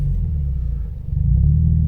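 2017 Subaru WRX with a boost issue driving, a deep, close engine rumble that swells louder partway through as it pulls away, with no talk.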